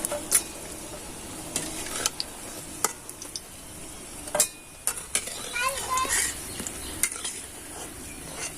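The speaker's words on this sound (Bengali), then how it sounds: "কত সুন্দর একদম মুচমুচে করে লাল লাল করে ভেজে নিচ্ছি, দেখেছো?" Potato and flour snacks fry crisp in hot oil, giving a steady sizzle and crackle broken by sharp scrapes and taps of a spatula against the pan, with no talking.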